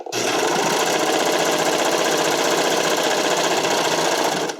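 A serger overlocks the seam of a stretchy figure skating skirt, its needles and knives whirring in a steady, loud, fast mechanical rattle close by, running continuously without pause and with no talk over it.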